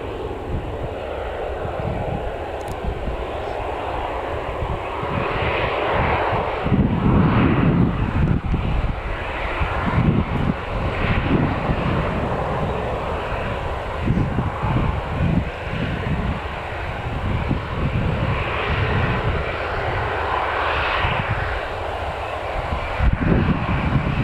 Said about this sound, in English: KLM taxiing over to its gate now, after just touching down a few minutes ago.